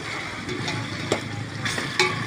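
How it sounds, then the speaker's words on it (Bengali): Food fries in a pan, a steady close sizzle, while a spoon scrapes and stirs it, with a few sharper clinks and strokes against the pan. "আর একটু ভাজা ভাজা হবে, তারপরে মশলাটা ছাড়বো।"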